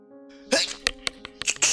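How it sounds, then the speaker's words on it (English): A single person sneezes: a short inhaled buildup followed by a sharp burst, then a few quick breathy sounds and scuffs close to the microphone, with an electronic tone faintly underneath. "Hold on, I'm about to sneeze."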